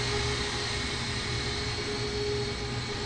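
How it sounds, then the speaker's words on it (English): A Spirit airliner at an airport gives off a steady, broad jet engine roar with a faint whine, continuous and fairly distant without any talk. "What was this airplane that came in?"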